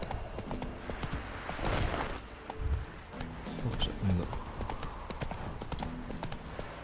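Roach, a horse in The Witcher 3 video game, gallops with a fast, rhythmic clip-clop of hooves over game ambience, and a few heavier thuds and faint snorts are mixed in.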